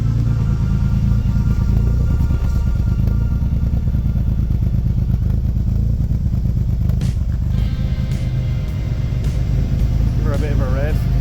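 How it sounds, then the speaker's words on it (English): A motorcycle with an aftermarket Scorpio exhaust idles with a deep, steady rumble, blipping the throttle a few times near the end, with voices talking over it. "It's a good exhaust. Scorpio exhaust on it."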